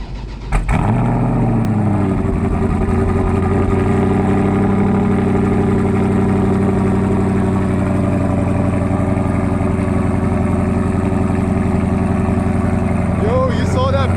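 A Dodge Charger Scat Pack fitted with Kooks long tube headers cold starts with a sharp crank and flare, then settles into a loud, deep, rumbling fast idle that holds steadily, with a voice talking briefly over the engine.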